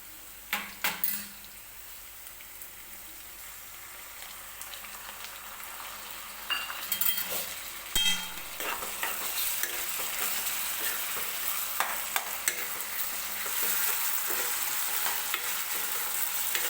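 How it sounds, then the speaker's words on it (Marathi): Tomatoes added to onion and capsicum in hot oil for pav bhaji, first a few clanks of utensil on pan, then a continuous sizzle with stirring scrapes and occasional metallic clicks, near and moderately quiet. "टोमॅटो सुद्धा व्यवस्थित सॉफ्ट होईपर्यंत तेलामध्ये आपल्याला परतून घ्यायचा आहे."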